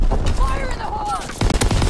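In Call of Duty WWII, heavy gunfire crackles in rapid bursts amid loud, busy battle noise, with the shots clustering near the end and voices shouting over the fighting.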